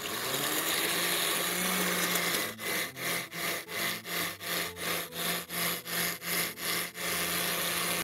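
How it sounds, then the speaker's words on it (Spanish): A kitchen blender whirs loudly while blending guavas with a little water, a steady motor drone that breaks into a rhythmic, pulsing churn of about a dozen regular surges partway through, then runs steadily again. "Lo que vamos a hacer ahora es licuarlas con un poquito de agua."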